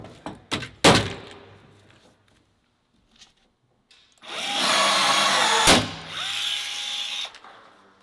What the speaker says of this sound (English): we're going to use our 3/16 drill bit and drill out these holes